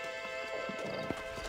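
Horse hooves clip-clopping in the Red Dead Redemption video game, a quick run of soft hoofbeats under a steady tonal game soundtrack, fairly quiet.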